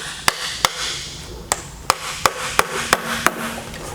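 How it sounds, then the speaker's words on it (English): Sharp metallic taps of a hammer striking a putty knife under a Chrysler 62TE transmission pan, about nine distinct hits at an uneven, steady pace over a low background hum. "Just get a hammer, get a corner, and just start tapping."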